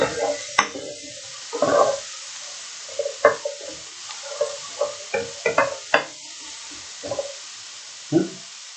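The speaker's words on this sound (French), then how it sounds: "On va rajouter nos champignons tout de suite pour les faire saisir eux aussi." Mushrooms and chunks of beef being seared in a pan for a beef ragout, with scattered crackles and sizzling bursts and the clatter of stirring, close and moderately loud, no voices.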